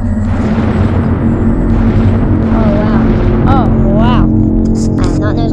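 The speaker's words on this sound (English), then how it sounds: "are you ready to see a big explosion?" A big explosion in the Solar Smash game, a dense, loud roar filling the whole stretch with sustained rumble and a few rising whistling tones near the end.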